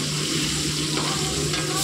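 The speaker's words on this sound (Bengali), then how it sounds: "মাছগুলো মোটামুটি ভাজা হয়ে এসেছে" Fish sizzling steadily in a karai over a short stretch, with a spatula stirring through the hot oil, close and evenly loud throughout, no talking.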